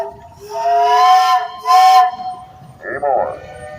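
At a steam engine show parade, a steam traction engine blows two strong harmonic whistle blasts, one long and one shorter. A softer sliding toot follows, loud and close, with a murmur of voices beneath.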